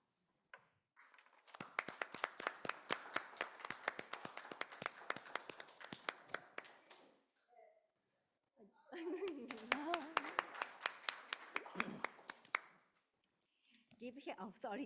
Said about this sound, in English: Give him a nice proud of applause.